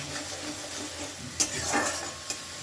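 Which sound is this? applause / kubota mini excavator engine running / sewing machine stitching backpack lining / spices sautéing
spices sautéing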